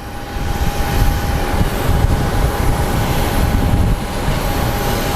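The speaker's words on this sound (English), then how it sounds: "So Alaska Airlines, I believe that is headed to Seattle. It's a MAX 9." Alaska Airlines Boeing 737 MAX 9 airliner at Phoenix Sky Harbor airport, a steady broad engine roar holding loud and even throughout with no pauses.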